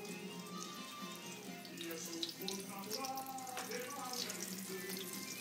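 Water runs steadily from a kitchen tap while hands are washed under it, a continuous hiss and splash at moderate volume with faint background voices.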